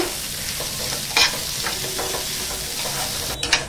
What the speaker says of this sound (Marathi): त्यात आपण ना 2 चमचे तेल टाकायचं आहे। कांदा छान गुलाबी होईपर्यंत ना भाजून घेऊया।